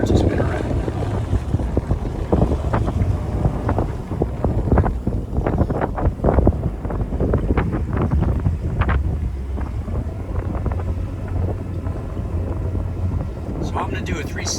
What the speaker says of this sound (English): I simply twist the joystick in the direction I want to spin, and the boat starts to spin around.